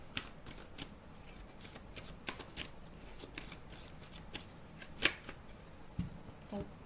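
Tarot cards being riffled and shuffled by hand, a steady soft papery flutter with scattered sharper snaps and taps as cards slip, knock together and fall out, fairly quiet and close, with no talking.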